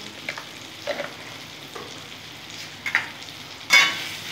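Meat frying with spices such as Kashmiri chili and black pepper in a pan, a soft steady sizzle with occasional stirring scrapes and one louder scrape near the end.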